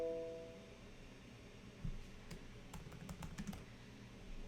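Keys tapped on a computer keyboard while a meeting is scheduled in Microsoft Teams in a web browser, a few scattered soft clicks and short bursts of typing, faint and close, with no talking.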